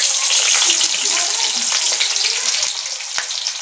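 Onions for Kolhapuri black chicken frying in a pan, a bright, hissing sizzle with crackles and stirring scrapes, loud and close, easing off slightly toward the end.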